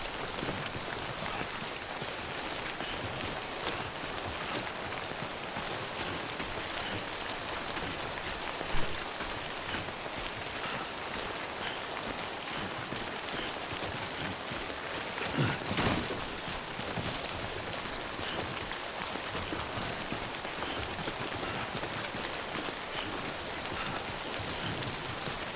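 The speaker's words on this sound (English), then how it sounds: "Don't want to be out in the rain for too long." Steady timefall rain in the video game Death Stranding, a constant dense hiss of falling drops that holds evenly throughout with no voices over it.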